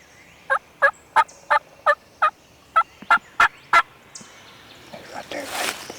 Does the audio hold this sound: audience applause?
no